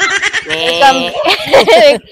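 Goats bleat repeatedly close by in a farm setting while people talk over and between the calls.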